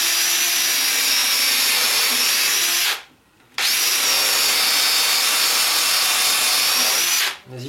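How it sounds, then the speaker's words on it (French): A power drill drives screws into wood for a forcing-tunnel raised garden bed with greenhouse, whirring loudly and steadily in two long runs separated by a brief pause, with another short stop at the end and no talk. "je commence à visser perpendiculaire"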